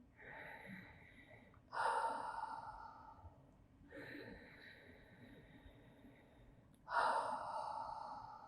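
Deep breaths during a Pilates neck and shoulder stretch: two slow cycles of long inhales building into loud, breathy exhales, close and intimate with no talk over them.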